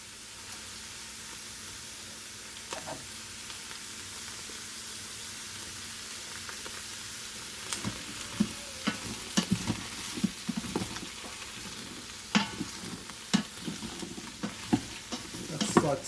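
Vegetables and meat sauté in a hot Instant Pot, giving a steady low sizzle that grows busier partway through with sharp scraping and clinking stirs, close and fairly quiet.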